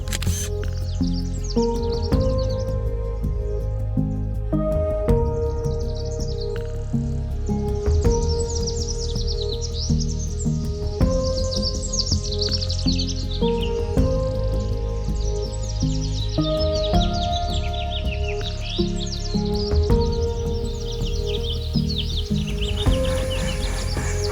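Wild birds call and chirp continuously across a birding spot in Rongtong, with many overlapping songs and tweets, some near and some farther off, filling the whole stretch with no one talking.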